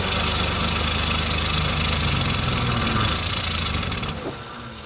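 An old Plymouth Duster that sat abandoned for two decades runs with a partly blocked exhaust, a loud, rough, knocking idle that chugs steadily close by before dropping off near the end.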